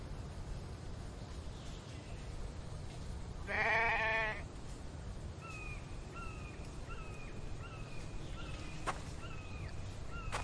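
A single loud sheep bleat in a video game with a wavering, nasal tone, followed by a few faint chirps over a steady low background hum.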